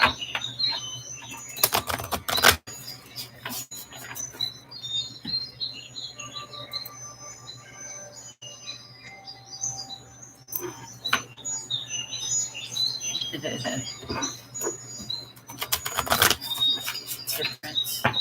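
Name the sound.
birds chirping in the background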